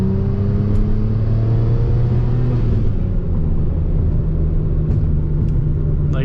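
BMW N54 engine pulling at about 30% throttle, a steady loud rumble with rising harmonic drone that eases off partway through, steady and close without speech.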